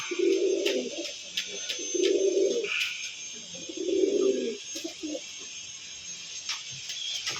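Ordinary domestic pigeons coo in soft, low bursts, three clear rounds of throaty rolling calls close by, separated by pauses and overlaid with faint chirps and clicks.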